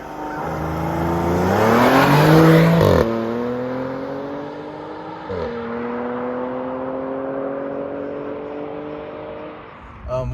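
Supercharged V6 of a 2012 Audi S4 all-wheel-drive sedan on backroads winds up hard, shifts abruptly, then pulls again with a steadily rising whining note, loud and close.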